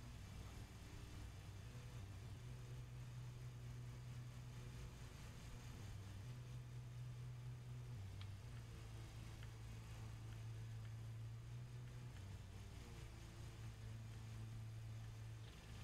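A lawn mower engine in the video game Lawn Mowing Simulator runs steadily at a low, even drone throughout, quiet and continuous with slight shifts in pitch, no voices.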